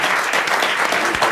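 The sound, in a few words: studio audience applause on French game show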